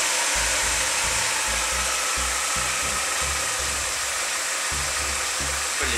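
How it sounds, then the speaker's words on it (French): A Peugeot 206 engine idles with an exhaust manifold leak, giving a steady close broadband hiss over a low uneven rhythmic chugging that continues for the whole stretch without talk. "elle a une fuite au niveau du collecteur d'échappement"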